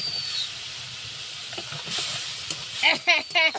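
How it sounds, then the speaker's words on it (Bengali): Ground cumin and spice powder hiss and sizzle in a hot pan with fried onion and garlic, a steady close frying noise with scraping stirs, and a voice cuts in briefly near the end. "এই যে পাউডার করা জিরে মশলা সব কিছু ঢেল দিলাম একটু কষিয়ে নিলাম"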